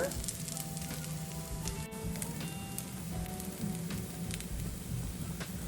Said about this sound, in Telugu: ఇలా కలుపుకుంటూ ఉల్లిపాయ కాకరకాయ ఫ్రై అయ్యేంత వరకు బాగా కలుపుకోవాలి